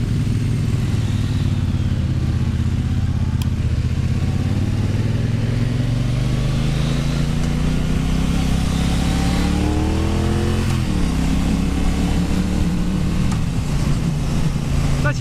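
A Triumph Bonneville Bobber motorcycle with electronic throttle rumbles and revs on a test ride, its twin engine note rising and falling through steady throttle blips over constant road and wind noise.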